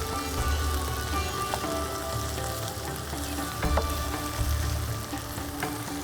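Beef searing in a pot for nihari, a dense crackling sizzle with rumbling bubbling, steady and close, broken by a few sharp spatters.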